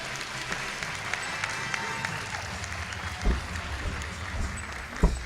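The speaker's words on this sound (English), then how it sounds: "Just give her a big round of applause" Applause from a pageant audience at a Miss Senior DC event, a dense wash of clapping with crowd murmur, a couple of louder thumps standing out midway and near the end.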